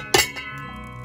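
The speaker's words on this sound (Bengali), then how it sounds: "ঢাকনাটা চাপে দিয়ে দিব" A lid set down onto a cooking pot of khichuri gives a sharp metallic clink with a short ringing tail, followed by a second lighter tap about a second later.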